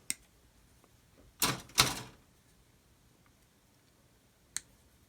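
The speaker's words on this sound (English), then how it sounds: "Let's cut the spare wheel off the sprue." Plastic model spare wheel from a 1/48 Kitty Hawk kit snipped off its sprue, with two quick crisp cutting snaps close together, a few faint clicks before, and one last sharp tick, no speech.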